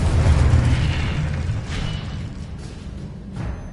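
A Confringo fire spell blast in the Hogwarts Legacy video game on PS5, a loud low boom at the start that fades into a rumbling, crackling tail with faint later bursts.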